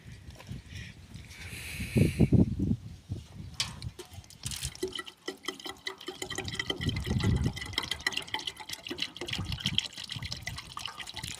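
Water poured into a tractor that throws off steam when it runs low, heard as close, irregular splashing, trickling and gurgling that rises and falls for several seconds, with no clear talk.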